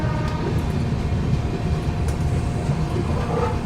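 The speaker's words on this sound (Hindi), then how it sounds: "लेकिन भाई साहब एकदम स्लो हो गई ट्रेन" An Indian express train rolls slowly along a loop line past a station, a steady loud low rumble of wheels and carriages with faint rhythmic clatter, heard from inside the moving train.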